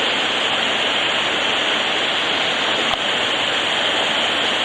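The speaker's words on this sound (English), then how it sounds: "there's a little mini waterfall" A small mini waterfall beneath a bridge near Cascades Waterfall in Virginia pours with a loud, steady, close rushing roar, unbroken and without voices.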